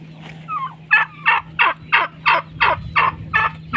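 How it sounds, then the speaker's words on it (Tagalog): Turkeys kept with free-range chickens gobble in a rapid run of about nine rhythmic bursts, loud and close, with a faint bird call just before and a low steady hum beneath. "Yan ang buhay ng pabo dito."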